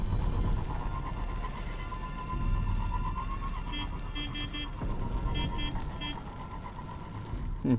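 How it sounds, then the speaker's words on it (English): A car horn honks repeatedly in the video game Destiny, several short bursts in two clusters over a steady engine drone and background game sounds, with no talking during the honks. "Just honking the horn as well."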